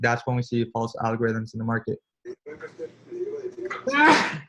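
A single sharp sneeze bursts out near the end, right after someone speaking steadily during a live forex trading webinar.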